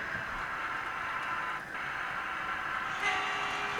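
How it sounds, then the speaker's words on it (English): A model railway DMU rumbles along a layout with a soft mechanical whir, then sounds a short electronic horn tone near the end as it heads into a hillside tunnel. "blowing its horn as it goes into the hillside."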